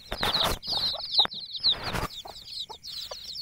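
Young desi chicks peep and cluck eagerly for grain, a busy overlapping flock of high chirps and short clucks close by, with a few wing flutters and no talk.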